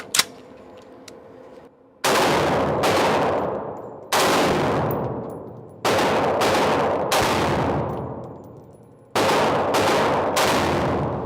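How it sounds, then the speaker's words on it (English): Loud, close gunfire from a firearm fitted with a Rare Breed trigger on a PSR46: about six sharp reports in uneven spacing, several arriving as quick paired shots, each followed by a long decaying echo, with nobody talking. "Let's try this Rare Breed single shot."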